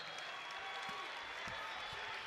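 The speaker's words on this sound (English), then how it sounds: "The crowd goes wild." A basketball crowd roars and cheers after a three-pointer at an NCAA men's game between Stephen F. Austin and New Mexico State, a dense, steady wall of arena noise that stays loud throughout.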